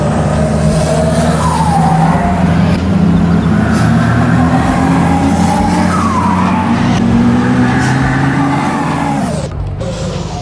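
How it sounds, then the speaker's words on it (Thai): A HINO 500 six-wheel dump truck engine in Farming Simulator 22 drones steadily and loudly throughout, with shifting revs and rising whines, cutting off abruptly near the end; no talking. "คือเสียงรถมันจะเหมือนกันทั้งหมดนะในฟาร์ม22นะ"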